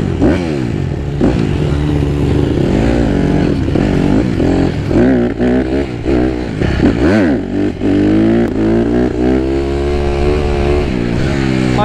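A Kawasaki KX250F dirt bike engine bogs out and sputters, its loud, close, wavering drone rising and sagging in pitch without cleanly revving up, with no voices over it.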